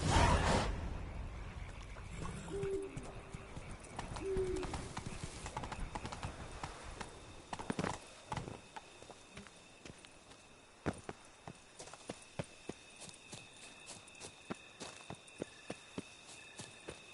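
Roach, Geralt's horse in Witcher III, gallops along with a steady, rhythmic clip-clop of hooves that sharpens into distinct, evenly spaced hoofbeats toward the end, set against a hissy outdoor game ambience.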